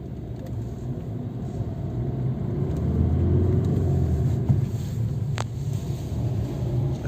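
Cars pass through busy city traffic in Istanbul, with frequent traffic lights, a continuous low rumble of engines and tyres that swells slightly in the middle, with no voices.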